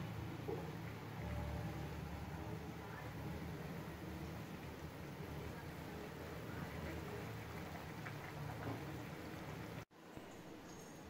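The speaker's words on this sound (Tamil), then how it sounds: "இப்போ கிரேவி நல்லா கொதிச்சிருச்சு" Bottle gourd ball gravy boils in a pot, giving a steady, soft bubbling and hissing simmer. It is close and fairly quiet, and it cuts off briefly near the end.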